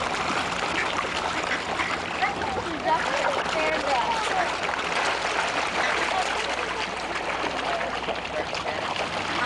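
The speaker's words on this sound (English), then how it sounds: "You ever see ducks and fish fight like that?" Ducks and fish thrash and fight in the water on a hot summer day, with quacking and splashing spread through a busy, steady din, and people talking in the background.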